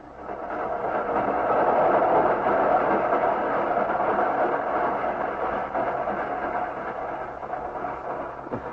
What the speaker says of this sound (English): clinging to the brake rods of a train speeding toward Chicago